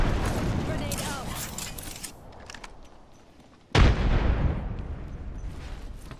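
Gunfire and a grenade blast in Apex Legends: irregular shots over a noisy battle, a quieter lull, then a sudden loud explosion that slowly decays into rumbling debris, with voices faintly present.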